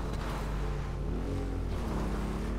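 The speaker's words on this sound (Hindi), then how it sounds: "गाड़ी भाई बिल्कुल गोस्ट राइडर की बाइक जैसी आवाज़ आ रही है" A Harley-Davidson-style motorbike in a video game, styled after Ghost Rider's bike, gives a steady, loud engine rumble that holds level throughout with no pauses.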